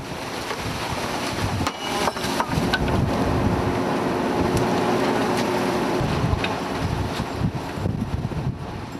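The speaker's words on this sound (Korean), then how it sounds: "거친 파도에 얼음보다 차가운 바닷물을 뒤집어 쓰고 배는 걷잡을 수 없이 흔들렸다" Wind roars and rough waves crash around a fishing boat rocking in a storm at sea on a skate-fishing trip, as a dense, loud, continuous wash of noise with surging gusts and no voices.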